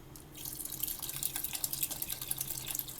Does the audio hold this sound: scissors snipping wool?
no